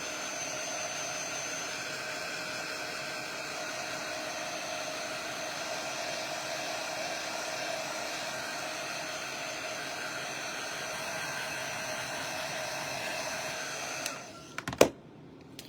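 A hair dryer dries chalk paste on a craft transfer, a steady close blowing whoosh with a constant whine that runs unbroken for about fourteen seconds, then switches off with a couple of handling knocks.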